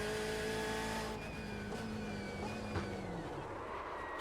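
Race car in the iRacing sim at Silverstone braking heavily into the pit lane, a steady engine note with descending pitch and a brief skid or tire scrub as it slows, close and alone.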